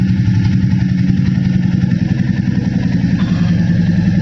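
A mini motorcycle's engine idles steadily and loudly close by, a constant low rumble with a slight mechanical clatter running throughout, with no other sounds.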